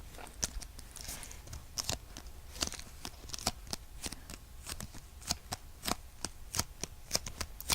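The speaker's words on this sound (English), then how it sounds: "I personally really like the sounds that the tags make. They're very soft paper sounds." Cardboard paper tags are handled up close, giving a steady series of soft, crisp taps, rustles and flicks at an uneven rhythm, quiet and without talk.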